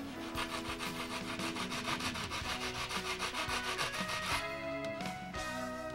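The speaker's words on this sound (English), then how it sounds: "Square up the ends with a sanding block." A sanding block squares up the ends of wooden I-beam wing spars in rapid, rhythmic back-and-forth rasping strokes, close and steady, shifting to a smoother scraping near the end.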